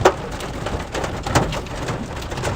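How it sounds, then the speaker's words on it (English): Marble-size hail striking a storm chaser out in the open during a central Kansas storm, a steady dense patter of scattered impacts with a few louder hits, no talking. "Y'all hear that hail hitting me?"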